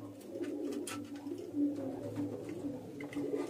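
Male pigeons in a loft setup cooing, faint low continuous murmuring with a slightly louder coo midway, among light background rustle.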